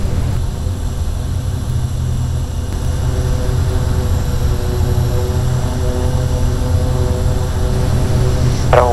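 A multi-engine aircraft drones with a loud, steady engine roar and tonal hum that continues without a break for the full stretch. A brief rising whine sounds at the very end.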